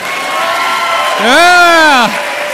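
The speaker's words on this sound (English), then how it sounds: "Clap if you think we're in a celebration." An audience at a sales keynote claps and cheers for about a second, with one loud rising-and-falling whoop standing out above a steady crowd roar that began earlier.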